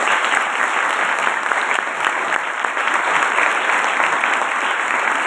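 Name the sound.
congregation clapping hands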